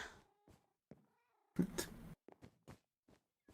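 A black cat in Minecraft meows several times in short separate calls, with one longer, louder, drawn-out cry in the middle. The calls are close and clear, with quiet gaps between them.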